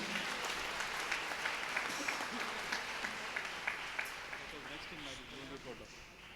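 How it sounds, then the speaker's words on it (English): Sustained applause from an audience at a church feast-day flag-hoisting at a basilica, steady dense clapping filling the whole stretch with a voice briefly heard over it near the end. "please give him a big round of applause"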